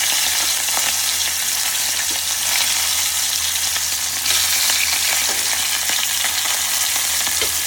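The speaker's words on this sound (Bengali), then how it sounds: "মাছগুলো ধীরে ধীরে ভাজা হতে থাকুক" Hilsa fish heads fry in a pan over lowered heat, giving a steady, dense sizzle and crackle that runs unbroken and fairly loud throughout, with no voices.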